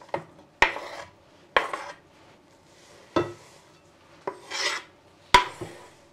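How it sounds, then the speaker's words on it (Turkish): Grated beetroot, greens and pickles tumbling into a salad bowl, a series of separate sharp clinks and soft rustling drops spaced a second or so apart, fairly close and otherwise quiet. "Rendelemiş olduğum pancarı ekliyorum. Yeşillikler ve turşuyu ilave ediyorum."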